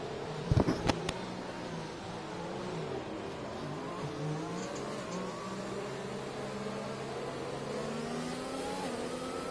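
Race cars accelerating in a racing video game during an Italian Grand Prix league race, a continuous engine roar with rising and falling revving pitch, a few sharp bursts near the start, then a steady drone throughout.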